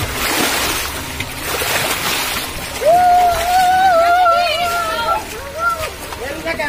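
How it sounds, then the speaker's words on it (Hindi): Rainwater rushes along fast in a steady, broad hiss of flowing water, loud and close, with a voice talking over it and a rising whistling tone in the middle. "और कितनी तेज पानी बह रहा है देख रहे हैं,"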